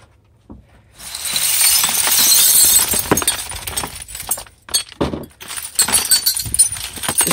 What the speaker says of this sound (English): dump all the glass into the trash. All the broken glass.